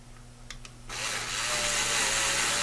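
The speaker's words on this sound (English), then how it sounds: "So all I'm going to do is just pre-drill a hole here." A power drill whirs steadily, pre-drilling a shallow hole in a model train layout, starting abruptly after a couple of faint clicks and running continuously at close range.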